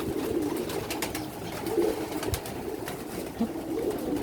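Several pigeons coo in low, throaty rolling calls, overlapping and repeating steadily nearby.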